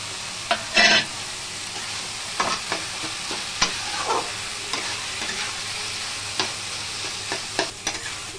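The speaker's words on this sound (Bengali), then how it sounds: "যে বড়িটা ভেজে রেখেছিলাম এটাও দিয়ে দিলাম।" Pre-fried lentil dumplings (bori) tipped into a frying pan with drumstick leaves and potatoes and stirred, giving a steady close sizzle broken by a loud clatter near the start and scattered scraping knocks of the spatula.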